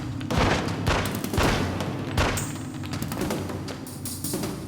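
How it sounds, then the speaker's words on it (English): Repeated gunshots in the video game The X-Files: Resist or Serve, a rapid run of loud, booming reports in quick succession over a dense, continuous background of game sound. "I'm shooting."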